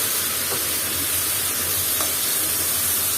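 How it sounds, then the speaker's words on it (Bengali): Mixed vegetables with shrimp frying in a pan while being stirred, a steady close sizzle and hiss with faint scraping touches, continuous and even with no voices. "এখন এটাকে আমি এখন ভালো মতো নেড়ে চেড়ে দিব উপর করে"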